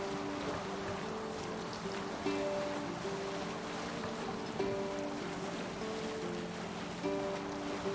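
Viking longship under sail on the open ocean in Assassin's Creed Valhalla, a steady wash of waves and wind noise with a faint recurring tonal hum, no voices.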